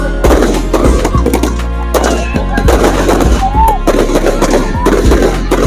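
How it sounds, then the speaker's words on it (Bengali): Fireworks are set off at an outdoor event, giving loud, rapid bursts of sharp bangs and crackles in quick succession, with whistling streaks between them and a crowd murmuring underneath. "এখন বাজি ফাটানো হচ্ছে, তোমরা দেখে নাও, এখানে বাজি ফাটানো হচ্ছে।"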